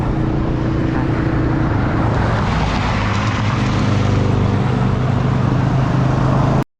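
A drone flying over a national park produces a steady, loud, broadband motor whine with a continuous low hum underneath, unbroken for several seconds before cutting off abruptly.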